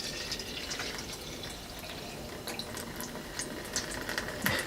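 Water trickles and drips out of a 3D-printed test print made from black, white and red tri-color filament, a faint running patter with scattered droplet ticks, no talking.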